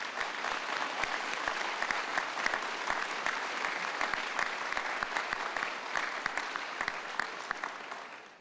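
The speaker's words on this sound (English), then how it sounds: "So let's give our students a round of applause" Sustained, dense applause from a large audience greeting graduating optical sciences students at a 2015 university pre-commencement celebration, steady and loud throughout before tapering at the very end.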